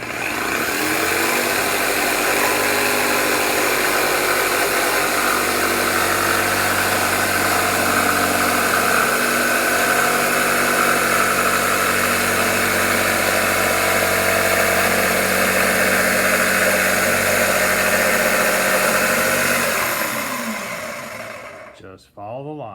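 A loud power tool runs continuously for about twenty seconds, cutting wood for a side table for a Weber 22-inch charcoal kettle grill, a steady buzzing motor drone that winds down and stops at the end.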